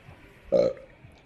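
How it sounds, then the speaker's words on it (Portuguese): A single short human burp, fairly loud and close, rising out of quiet background hiss. "Vocês conseguem arrotar a hora que vocês quiserem?"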